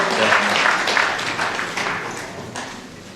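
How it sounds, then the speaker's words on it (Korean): An audience at a literary award ceremony applauds a recipient of a merit plaque, a burst of clapping that fades over a few seconds with a brief swell near the end. "여러분 큰 박수 부탁드리겠습니다"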